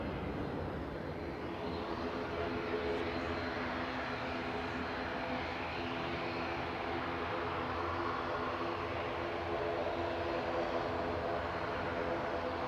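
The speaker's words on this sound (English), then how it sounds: "First noisy prop departure, taxiing out to going to the Isle of Man, GLMTF for Logan Air" A Logan Air propeller airliner taxies out at Manchester Airport, its engine drone a steady, loud, broadband roar with a low tonal hum, continuous and unbroken for the whole stretch.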